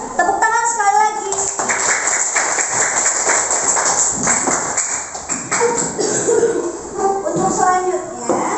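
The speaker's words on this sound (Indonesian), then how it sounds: "Tepuk tangan sekali lagi." A primary classroom of children claps together in brief rapid bursts, mixed with kids' voices and an adult teacher talking over and around it.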